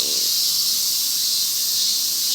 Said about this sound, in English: The Japanese cicadas here, they range from 70 to 80 decibels